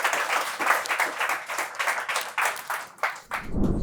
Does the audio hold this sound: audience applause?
yes